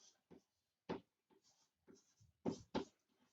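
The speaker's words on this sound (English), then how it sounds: "so let me write it down" Writing strokes made while taking down notes during an economics lecture on externalities: several short scratchy strokes in an uneven rhythm, close and fairly faint, with brief silences between them and no talk.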